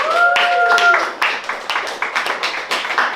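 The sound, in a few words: round of applause for the artists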